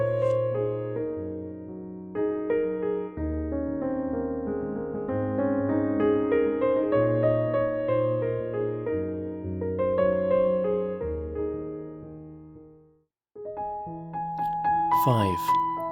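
A rhythmic, driving solo piano piece with steady chords and a moving melody, played continuously and close, pausing briefly near the end before resuming.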